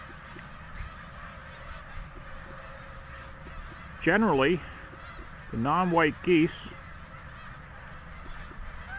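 Geese honk loudly nearby in a field in Milton, Delaware, in two short bursts of harsh, repeated calls, with someone speaking over a quiet outdoor background.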